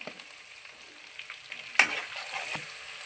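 Onions frying in a pan, a faint, soft sizzle with a sharp clink of a utensil partway through and light stirring scrapes after it.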